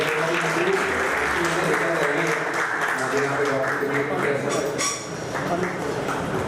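At a Sham e Sher e Nao poetry evening, a large audience gives sustained, dense clapping that stays loud and continuous throughout, with some crowd voices mixed in.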